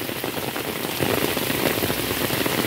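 A dense, loud wash of heavy rainfall on a Hong Kong street, steady and close, swelling slightly partway through with no speech.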